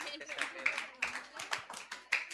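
Audience applause at a junior class report presentation, arriving as a few short bursts of clapping over a couple of seconds, mixed with voices in the room.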